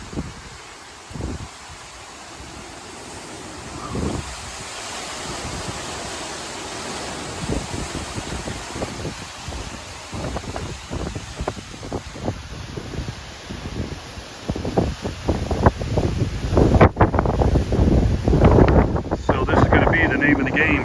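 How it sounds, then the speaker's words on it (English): Strong gusty hurricane wind from Hurricane Milton in Cape Coral, Florida roars and buffets the microphone, with rustling and clattering that grows louder and more turbulent toward the end. "But we have some pretty strong winds now."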